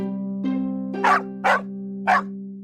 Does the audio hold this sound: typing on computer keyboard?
no